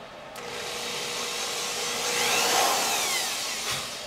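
A power drill pre-drilling a hole while building DIY home theater speaker towers gives a steady, close whirring that rises and falls slightly over about four seconds.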